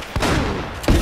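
Two heavy, booming shotgun blasts from the game Uncharted: Drake's Fortune, fired close and loud with a short gap between them.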